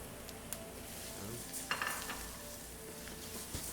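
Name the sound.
stirring arborio rice sizzling in pan for risotto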